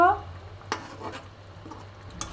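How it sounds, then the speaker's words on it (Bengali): White mustard paste is stirred into a khoira fish curry, with soft spoon scrapes and a few light clinks against the pan, close and moderate. A brief voice sounds at the very start. "দেখো একটু সাদা সর্ষে বাটা দিয়ে দিলাম এটা মিশিয়ে নেব"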